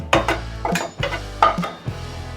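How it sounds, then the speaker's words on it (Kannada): Cashews stirred in ghee in a pan over low heat for carrot halwa, with a spoon scraping and clinking against the metal in several distinct strokes over a soft, steady sizzle. "ತುಪ್ಪದಲ್ಲಿ ಗೋಡಂಬಿಯನ್ನು ಹಾಕಿ ಉರಿ ಕಮ್ಮಿ ಮಾಡಿಕೊಂಡು ಗೋಡಂಬಿನ ಹುರ್ಕೋಬೇಕು"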